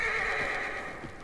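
A horse neighs loudly in a video game boss fight, a single close whinny with a strained, ringing tone and faint hoof clatter beneath, no voices over it.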